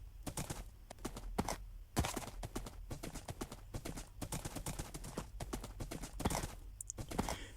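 Hooves of a horse in a video game clip-clop in a steady, fast rhythm, close and crisp, with an occasional louder strike and no talking over them.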